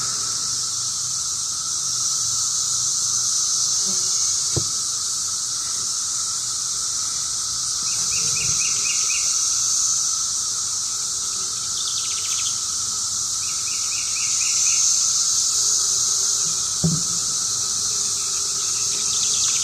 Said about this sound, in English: Cicadas everywhere.